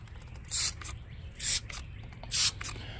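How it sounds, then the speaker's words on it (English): Tire cleaner sprays onto a neglected car tire in three short, hissing bursts, close and evenly spaced about a second apart, with quiet pauses between them. "4 sprays on the tire."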